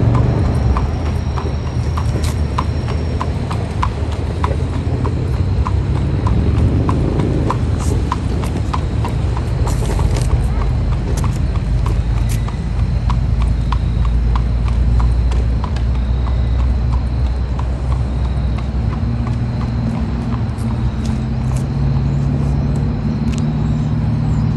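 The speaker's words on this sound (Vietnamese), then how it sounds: "Thêm một chiếc xe ngựa đi ra nữa nè." Horse-drawn buggy carriage on a rural American road in autumn, hooves clip-clopping in a steady loud rhythm that continues throughout, with road and vehicle noise in the background.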